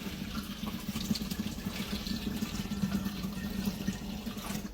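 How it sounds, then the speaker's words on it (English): Water pours steadily through a funnel into a glass wine jug holding honey, a continuous close splashing rush with a rising fill and no talk. "Rinse and clean your funnel if you want, and top it off with some water"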